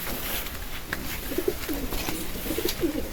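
A pigeon coos nearby in a few soft, low, throaty bursts, short and then in a brief cluster, over faint background noise with no talking.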